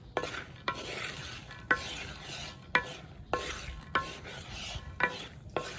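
Groundnuts are turned in very hot sand for bulk commercial roasting, a gritty rustling hiss broken by regular sharp scraping strokes about once a second, close and moderately loud.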